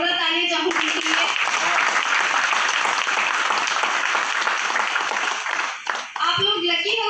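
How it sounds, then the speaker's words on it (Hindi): Loud, sustained clapping from a large audience at a business achievers' gathering, a thick continuous wash of hands that swells in and fades after several seconds, with someone talking briefly before and after. "एक और जोरदार तालियां चाहूँगी उनके लिए"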